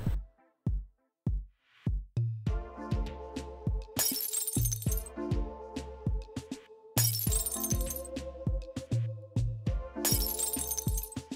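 Glass panes shatter in a Unity game test built to mimic Counter-Strike 2, with a run of sharp gunshots and three loud, bright breaking crashes spaced a few seconds apart, close and alone with no talk.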